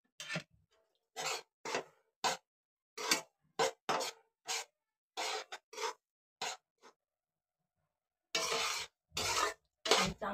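Semolina roasts in ghee in a pan, stirred with a spoon in short scraping, rasping strokes that come in irregular bursts separated by quiet gaps, close and fairly soft, with no talk.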